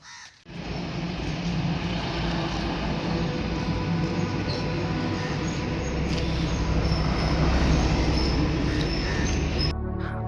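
A local Namkhana train runs on the rails with a continuous loud rumble and clatter of wheels, while crows caw now and then above the din.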